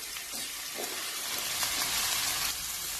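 Potatoes tipped into a pan of frying masala with tomato paste, a steady close crackling sizzle throughout with faint stirring scrapes and no talking.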